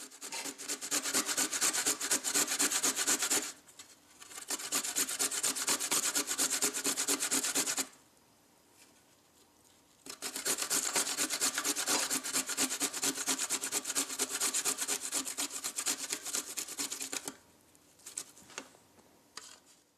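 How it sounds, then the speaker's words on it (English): Fresh peeled ginger is rubbed against a sharp metal grater over a plate, a dense continuous rasping scrape in long back-and-forth strokes with two short pauses, close up and alone. "Once the ginger is peeled, take your grater on a plate to collect the shavings."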